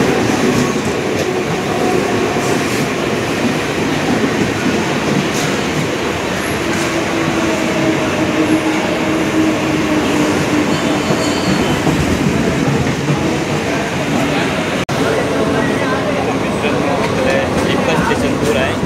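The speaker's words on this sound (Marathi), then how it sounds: "तर बोरवली ट्रेन आलेली आहे" A Borivali local train arriving at a Mumbai station, with loud continuous rumbling, wheel clatter and occasional metallic squeal, heard close up for the whole stretch amid platform noise.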